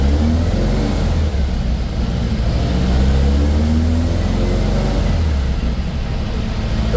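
A VW 1835cc fuel-injected engine runs on a chassis dyno, pulling through the gears with a loud, continuous low drone and rumble. The engine note shifts slightly as revs climb, steady and close, with no voices over it.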